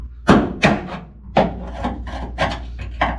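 A screwdriver prying and scraping to break spot welds on a 1967 Mustang floor pan, a series of sharp close grinding scrapes and knocks in irregular bursts, loud and without talk.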